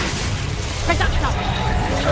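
In the game Hogwarts Legacy, the Reductor spell erupts in a rough, broadband magical blast amid ongoing combat noise, with a voice over it.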